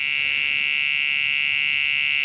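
A built-in buzzer in a Compaq LTE 386s/20 laptop sounds at switch-on, a loud, steady, unbroken electronic tone held without a pause, with no voices over it.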